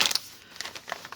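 The plastic bag of a cross stitch craft kit is crinkled in a short burst, with close, sharp rustles at the start and lighter crackles after.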